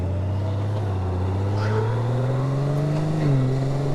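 A 50th Anniversary Honda Goldwing motorcycle pulls away with a smooth, steady engine drone whose pitch climbs gradually as it accelerates, then dips briefly near the end.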